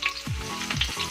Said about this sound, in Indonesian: jadi sekarang kita masukkan bawangnya